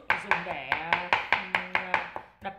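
A small kitchen hammer crushes and minces garlic and onion, about a dozen quick, sharp, close chopping knocks in a steady rhythm with a faint ringing tone.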